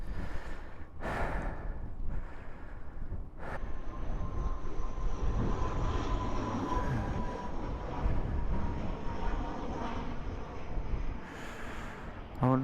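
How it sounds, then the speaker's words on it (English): A broad, rumbling roar of an airplane coming in to land over Shetland, passing overhead, steady and fairly loud, mixed with gusty wind noise. "There's another plane coming in."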